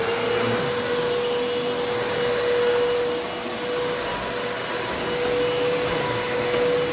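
A Eureka Clean Living 3281 upright vacuum cleaner runs steadily nearby, a loud whining motor roar with a constant high tone that swells slightly as it moves over the floor.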